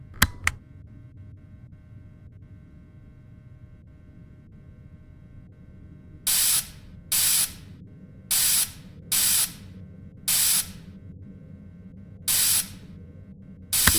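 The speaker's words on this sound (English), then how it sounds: "So go ahead and start spraying the suit" Spray bursts on a mascot suit in the horror game Fredbear and Friends: Left to Rot, six or seven short loud hissing blasts at an uneven pace over a low background hum, with no talking.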